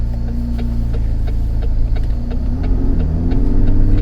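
A 2018 McLaren 570S Spider in normal mode, engine warm, heard from inside while driving: a steady, loud low rumble that holds even throughout and swells slightly toward the end.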